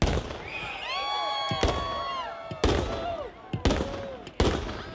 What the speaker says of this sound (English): for good luck, we'll fire our guns